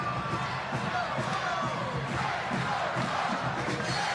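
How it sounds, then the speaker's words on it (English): Spectators at a men's college volleyball match between Hawaii and UCSB cheer and shout in a steady, moderately distant roar, with scattered whoops and thumps rising through the arena. "The crowd trying to ramp it up a little bit."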